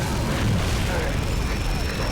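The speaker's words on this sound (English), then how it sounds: "Let's throw a grenade." A grenade explosion in the video game Gears of War Judgment: a loud, deep boom with a rumbling, broadband roar that fills the whole two seconds.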